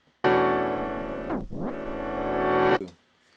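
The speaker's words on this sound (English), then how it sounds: "when I was recording on the turntable, I press reverse and it'll rewind at playback speed. So it's the same sound doing a rewind." Turntable-recorded sample rewinding in reverse at playback speed, a loud, harmonically rich distorted tone that sweeps down to a dip midway, rises back, then cuts off abruptly.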